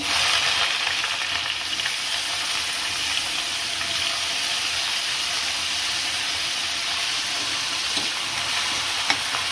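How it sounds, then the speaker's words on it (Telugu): Sliced onion frying in a pan of hot oil for a cabbage dal, a continuous loud, close sizzle with faint stirring, no voices. "ఉల్లిగడ్డ వేస్తున్నాను"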